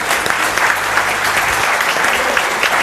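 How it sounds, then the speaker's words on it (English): Loud audience applause at an innovation society event, a continuous dense crackle of many hands clapping close by and alone, steady throughout. "I would like to give everybody a round big of applause to Sunil Bhai and my team."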